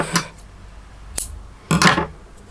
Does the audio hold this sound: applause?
no